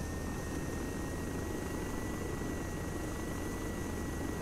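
Steady, loud rotor drone of a Little Bird helicopter in the video game ArmA 3, constant and unbroken, with a faint high whine above it.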